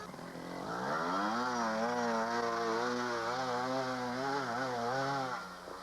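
Trials motorcycle engine climbs a long hill in third gear at a 1989 world round, revving high and loud with a sustained rising and wavering drone before easing off at the end.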